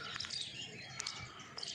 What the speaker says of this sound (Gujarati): ચકલાનો અવાજ તમે સવાર સવારમાં સંભળાય છે, ચી ચી ચી એવો અવાજ આવે છે